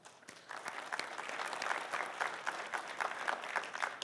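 Sustained audience applause at a VTA Board of Directors meeting, steady dense clapping from a room of people that builds quickly and carries on evenly to the end without talk.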